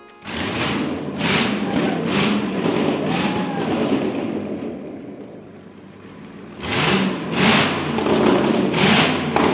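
An engine cranks and catches, then settles into a steady rumbling idle with a few surging revs, close by and loud.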